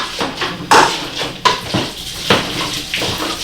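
A sweet potato mixture being mashed and stirred in a bowl: wet, squelching scrapes and clacks come in an uneven rhythm, close and moderately loud, with no speech.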